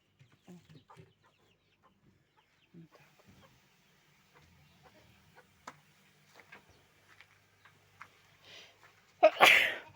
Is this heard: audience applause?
no